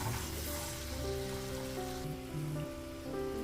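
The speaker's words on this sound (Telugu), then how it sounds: "కరివేపాకు కూడా కొంచెం వేగాలి." Curry leaves crackle in hot oil with ginger garlic paste for a prawn pickle, a dense, steady sizzle close up with a faint tonal hum beneath, no talking.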